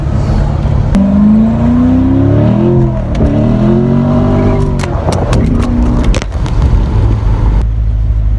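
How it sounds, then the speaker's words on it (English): A C7 Corvette Premier Edition accelerates hard in track mode, its V8 revving up through rising pitch sweeps with sharp shift breaks and crackles, loud and close from the cabin with no talk. "I just kind of did a pull in this car"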